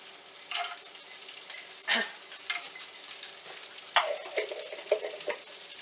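Walnuts sizzle and crackle in a frying pan, a soft steady frying hiss punctuated by scattered pops and occasional stirring scrapes, close and fairly quiet.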